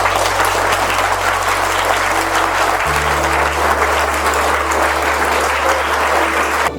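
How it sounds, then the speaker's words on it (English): Audience applause for teachers at a Teachers' Day school assembly: a loud, sustained wash of many hands clapping, steady throughout with a low hum underneath. "can I request you all to give a huge round of applause for our teachers"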